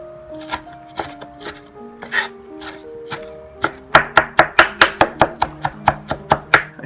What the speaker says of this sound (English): do the same thing with the chopper as I do for the cucumbers and the peppers